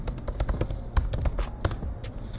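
Fast, uneven clicks of fingers typing on a computer keyboard at a Linux Ubuntu 20.04 terminal, close and clear with no voices over it.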